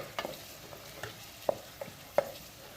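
Onion filling for beef qeema-stuffed karela sautés in a pan, a quiet sizzle punctuated by a series of distinct spatula taps and scrapes at irregular intervals.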